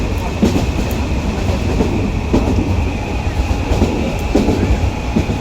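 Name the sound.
train running, heard from inside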